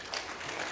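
A crowd claps for the panelists at a peaceful-elections forum, a brief burst of dense, even applause heard at moderate distance.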